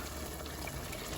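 Water is poured into chicken gravy in a pan, making a short, steady, broad rushing splash close up, with no talking over it.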